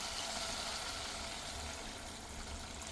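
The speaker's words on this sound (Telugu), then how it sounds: "ఇప్పుడైతే వాటర్ వేసేసుకుందాం." Water goes into a hot pan of chili-fried country chicken, raising a soft, continuous sizzling hiss that stays fairly faint and even throughout, with no voices.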